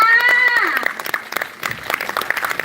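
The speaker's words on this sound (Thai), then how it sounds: "ขอเสียงปรบมือแสดงความยินดีกับนักเรยทุกท่านอีกครั้งหนึ่งค่ะ" Audience clapping at the Eye Level Award Ceremony 2025 for award-winning students, starting behind a fading sustained tone and then settling into steady, moderately loud scattered applause.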